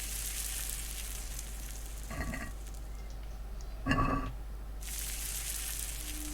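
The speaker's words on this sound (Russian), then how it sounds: "Жарим, жарим." Food sizzling in a frying pan in the video game Kingdom Come: Deliverance, a steady frying hiss throughout with two brief bubbling bursts in the middle.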